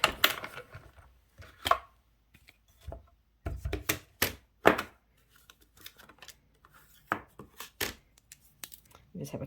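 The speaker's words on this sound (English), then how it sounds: "we'll run this through our cut and emboss machine. And it's okay if it makes some noise." Paper being cranked through a die-cut and emboss machine gives close, quiet bursts of irregular crunching clicks and snaps with brief pauses between them, and no one talks.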